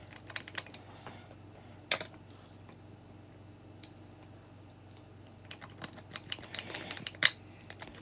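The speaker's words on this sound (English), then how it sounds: "These are quite tricky to put the toggle switch back in. I have to use a little bit of brute force." Plastic toggle switch forced back into a 2-gang 2-way light switch: a few sharp, close clicks and snaps scattered over soft handling rustle, with a couple of louder cracks.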